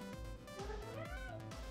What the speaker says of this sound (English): No, Mara, we don't meow.